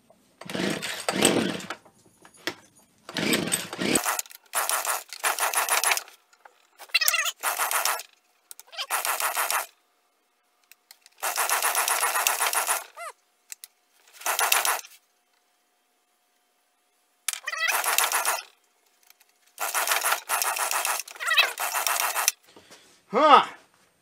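A small engine fitted with an aftermarket carburetor, choked and primed, catches and runs in repeated short, loud bursts with silent gaps between them, sputtering rather than settling into a steady run.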